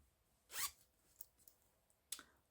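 A zipper on a small heart-shaped fabric pouch is pulled in one quick, close zip, followed by faint ticks and a second short zipping pull, all very quiet with no talk.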